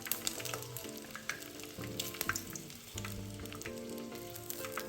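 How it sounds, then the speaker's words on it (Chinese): Eggs deep-frying in oil until golden, giving a steady crackling sizzle with scattered sharp pops, close and continuous throughout, with no voices. "油炸至鸡蛋金黄色后，沥干油分，搁置一旁待用。"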